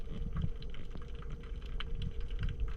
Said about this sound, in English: you'll hear kind of like a crunching noise, and that's I'm grabbing onto the face of the lobster